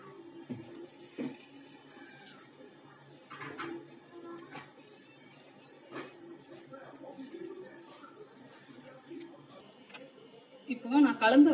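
Water poured gradually into flour to make dough for poorna kolukattai, a soft, intermittent trickle under steady talk in a home kitchen.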